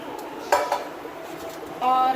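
Mutton trotters drop into a metal pressure cooker holding water, giving a couple of quick metallic clanks and knocks against the pot, close and moderately loud.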